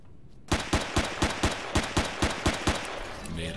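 Rapid automatic gunfire in the video game Empyrion, a loud burst of about a dozen evenly spaced shots fired while shooting open a door, followed by a short electronic tone.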